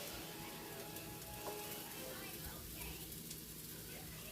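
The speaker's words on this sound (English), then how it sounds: "So I'm going to throw my poblanos in there." Poblano peppers frying in a hot pan, a steady dense sizzle holding evenly throughout, with faint stirring and a voice talking quietly underneath.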